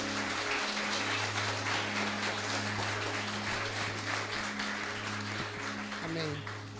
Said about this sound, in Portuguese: Você pode aplaudir o Senhor nessa manhã por isso?